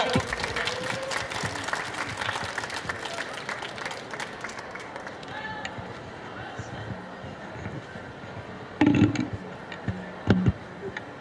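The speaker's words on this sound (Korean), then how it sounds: "큰 박수로 맞이해 주십시오." Audience at a cat industry expo talk concert claps in welcome, a dense wash of applause that tapers gradually, with a few sharper knocks and handling sounds near the end.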